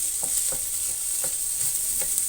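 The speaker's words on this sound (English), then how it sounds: "I've actually added a little bit of dark soya sauce just for the color of the fried rice." Fried rice for nasi goreng kampung is stir-fried with dark soya sauce: a steady frying hiss with rhythmic scraping stirs of a spatula against the pan, close and moderately loud, no voices.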